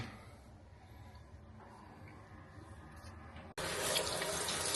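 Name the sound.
water filtering through a water filter pitcher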